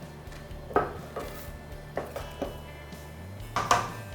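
A spoon stirring a thickening milk and cocoa chocolate mixture in a pan, with a handful of soft scrapes and light clinks against the pan at irregular intervals over a low steady background hum.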